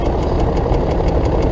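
A BMW X5 E53 engine idles with a steady, rapid knocking that repeats evenly through the whole stretch, loud and close, with no talk over it.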